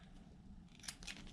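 Scissors trim cardboard for a miniature 1:12 scale sled, giving two faint, quick snips over a low steady background hum.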